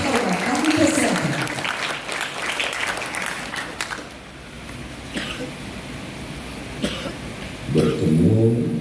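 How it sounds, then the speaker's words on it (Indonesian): Audience at a National Santri Day ceremony claps in a burst of applause that swells, thins out with scattered claps and coughs, then rises again near the end as a voice speaks over it. "kita sambut dengan tepuk tangan yang setia Bapak Haji Erwin Heru"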